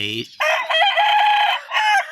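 A fighting rooster crows loudly and close by, one long drawn-out call lasting about two seconds, opening with a brief low note before the strained, harmonic crow.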